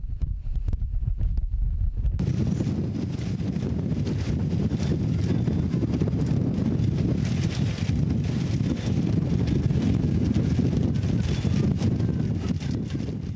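Strong, steady wind roars across an open coastal village site with about ten power-generating wind turbines, a continuous broadband rush buffeting the microphone for the whole stretch after a brief quieter start.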